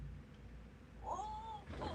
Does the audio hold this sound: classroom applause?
no